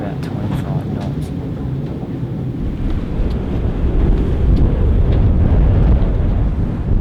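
Strong wind of about 25 knots during a storm at sea, heavy roaring gusts that build louder toward the end, with a voice talking over it.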